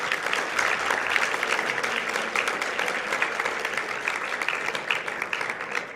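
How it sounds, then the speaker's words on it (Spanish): An academic audience at a science outreach lecture gives steady, sustained applause, a dense wash of many hands clapping together without pause for several seconds. "Un aplauso, por favor."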